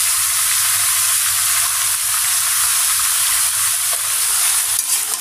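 Vegetables sizzle steadily in a pan with lightly fried onion and panch phoron spices, a close, continuous frying hiss with a soft stir or clatter near the end and no talking.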